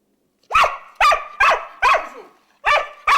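Jojo the dog barks five times in a steady series of sharp, loud barks with short gaps, close by and with no talking.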